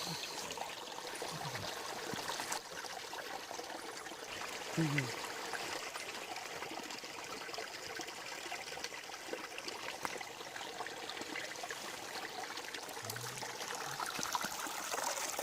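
A small stream trickling and gurgling steadily outdoors, soft and continuous, with brief low voices now and then.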